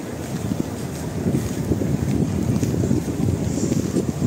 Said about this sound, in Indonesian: Angin suam ya, angin suam.